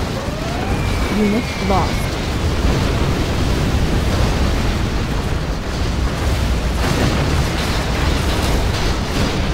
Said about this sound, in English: Our Scudstorm has been launched.